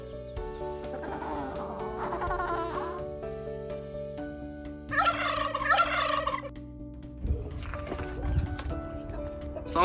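Turkeys on a small farm let out two bursts of warbling gobbles, the first early and the second near the middle, each lasting a second or two, over steady background music.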